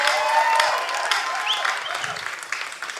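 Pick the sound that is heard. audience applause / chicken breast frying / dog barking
audience applause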